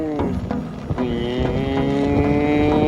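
A voice imitating a scooter engine with a Piaggio motor, a loud continuous buzzing drone that rises in pitch, close to the microphone with wind noise.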